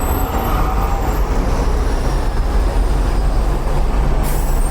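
Busy road traffic at a town crossing near a courthouse square, vehicles approaching from both directions; a loud, steady engine and tire rumble with no break and no voices.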